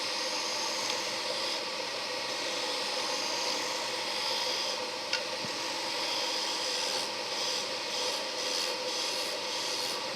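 A lathe turns a wand from green cherry wood, giving a steady, even whirring hiss that runs unbroken throughout at a moderate level, with one faint tick partway through and no speech.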